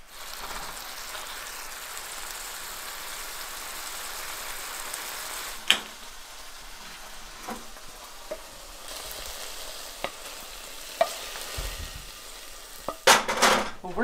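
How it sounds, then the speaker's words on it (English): Gnocchi frying in a hot pan with birch syrup, a steady close sizzle running throughout with occasional clinks and scrapes of stirring, a few sharper knocks near the end. "Let's go ahead and add this gnocchi back in."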